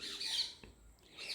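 A falcon call: one harsh, high squawk that rises and fades, followed by a short second cry, heard faintly and alone.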